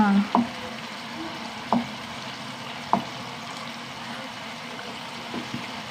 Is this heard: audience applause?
no